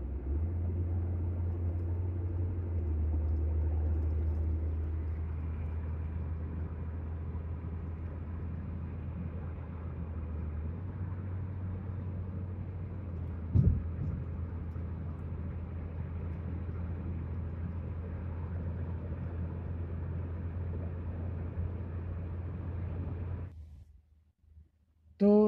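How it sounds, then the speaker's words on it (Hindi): A car with worn axles vibrates while its engine is revved, a low steady droning rumble lasting over twenty seconds with a brief knock midway, then cutting off near the end. "ये थी एक्सेल्स की वाइब्रेशन"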